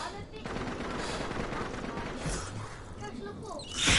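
Rapid automatic gunfire in the Farpoint VR multiplayer shooter on PSVR, a dense continuous burst of shots that swells louder at the end, with talk mixed in.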